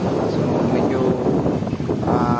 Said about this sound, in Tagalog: At kita nyo dito malakas yung hangin.